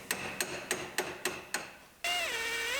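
Six sharp, evenly spaced hammer blows strike a car's inner frame rail in a workshop, each metallic clang ringing briefly, followed by a sustained whining tool sound.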